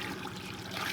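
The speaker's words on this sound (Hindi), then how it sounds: "ये आ रहा है बर्फ़ का पानी।" Icy snowmelt water trickles and splashes in a cold high-mountain setting, a brief close, continuous watery wash with no voices.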